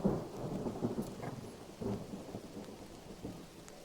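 Thunder rolls and rumbles under steady rain during a stormy scene in the video game Mind Over Magic. A few louder cracks rise out of the continuous downpour, all at moderate volume with no talk.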